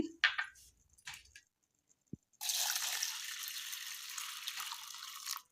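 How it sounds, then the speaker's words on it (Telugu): A few faint drips and a clink, then a steady splashing stream of water pours into a bowl of flattened rice for about three seconds before stopping. "వాటర్ పోసుకొని"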